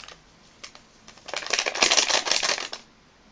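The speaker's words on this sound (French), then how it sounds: "Et je remélange encore une fois pour que le tout soit bien mélangé à toute la farine" Pizza dough ingredients being mixed into flour in a bowl, giving a brief burst of dry, rapid scraping and rustling that swells in the middle and then stops.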